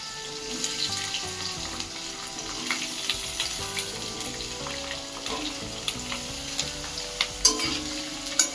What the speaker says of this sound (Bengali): ক্যাপসিকামটা এখন দিয়ে দিচ্ছি।